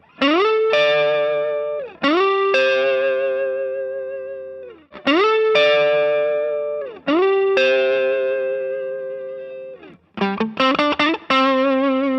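An electric guitar runs through a Tube Screamer overdrive pedal fitted with a Malaysian chip, drive set to zero. Loud strummed chords ring out and sustain in several phrases, ending in a quicker run of short chords. No talking.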